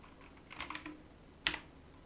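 Computer keyboard keys tap in two short bursts, a quick cluster of soft clicks followed by a single sharper keystroke, close and quiet.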